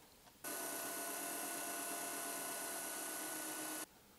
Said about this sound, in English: Alright, here comes a pilot hole.